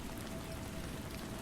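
Rain ambience: a dense, steady hiss of rainfall pattering on surfaces, continuous and even in level throughout, with no voices.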